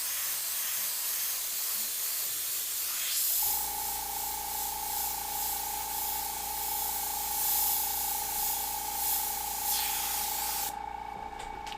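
Airbrush spraying paint, starting as a soft hiss and then turning into a loud, steady spray with a constant pitched whine that runs uninterrupted for about eight seconds, close up and without talking.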